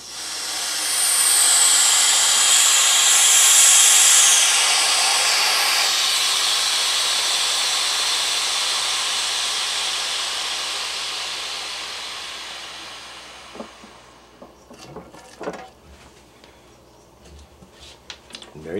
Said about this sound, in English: Now we're going to open the drain valve.